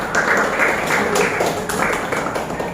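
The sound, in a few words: classroom applause for group 4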